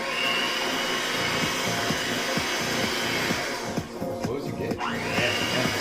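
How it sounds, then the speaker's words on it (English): An electric whisk runs on low through pancake batter, a steady whirring buzz with faint rhythmic ticks against the bowl, briefly dipping near the end before resuming. "mix in slowly, whisk low, until it's incorporated"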